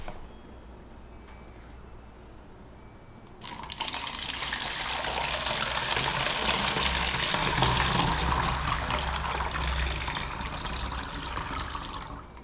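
C-41 colour film developing chemical is poured gently into a bottle. After a few quiet seconds a steady, fairly loud liquid stream runs for about nine seconds and tapers off near the end, with no talking.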